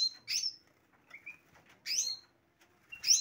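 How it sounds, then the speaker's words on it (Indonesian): A small bird, a green leafbird, sings in short, bright bursts of whistled and chirping notes, repeated with brief pauses between phrases, fairly close by in a small aviary. "Ini cucak hijau mini nih."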